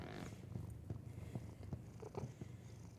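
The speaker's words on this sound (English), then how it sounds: "Do you hear him purring?" Cat purring up close, a soft, steady low rumble with a regular pulsing rhythm, faint and alone without any voices.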